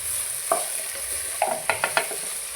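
Green bean thoran in a pan being stirred with pepper powder, a soft steady sizzle beneath a few distinct scraping stirs, close and fairly quiet.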